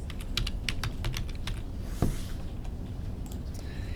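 Steady typing on a computer keyboard while entering a chart title in Excel, a close run of quick, even key clicks with one slightly heavier tap midway, no talking.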